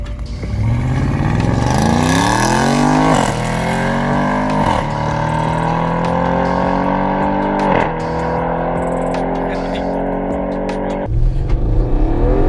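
Audi RS6 quattro launching hard, its engine climbing loudly through the revs with several distinct gear shifts, each marked by a brief dip before pulling up again, close and powerful with no talk over it.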